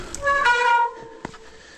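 Mountain bike brakes squeal on a slippy, steepening trail near Llangollen, Wales: a loud, high, ringing whine that swells for about half a second and fades, followed by a brief sharp click and quieter squeaks.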